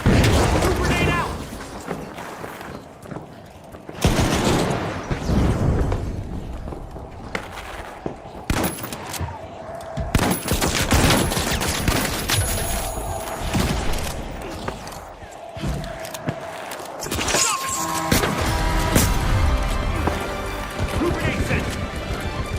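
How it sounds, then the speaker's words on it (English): A grenade blast and bursts of gunfire in a shooter video game with a shockwave weapon, loud booms and rapid shots throughout while someone talks over the action. "Grenade out."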